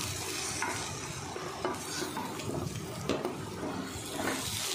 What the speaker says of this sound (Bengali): নিয়ে পেঁপে আলুগুলোকে আর একটু লাল লাল করে ভেজে নেব।